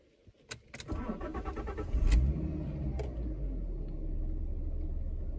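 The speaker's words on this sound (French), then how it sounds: "Ça démarre au quart de tour, c'est hyper lisse, on sent que le 5 cylindres a été parfaitement entretenu" A well-maintained five-cylinder car engine starts after a few faint clicks, catching quickly with a cranking burst and a brief rev, then settling into a smooth, steady idle close by.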